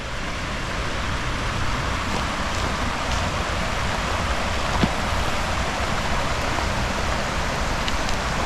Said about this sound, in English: there's the creek, the very gold-rich Granite Creek, and it's intersecting with the Tulameen River